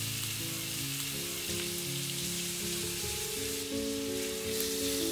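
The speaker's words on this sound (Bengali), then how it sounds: "তেলটা হালকা গরম হলে দিয়ে দেবো চিংড়ি মাছগুলো।" Shrimp fry in lightly heated oil in a wok, giving a constant crackling sizzle throughout, with a musical backing underneath.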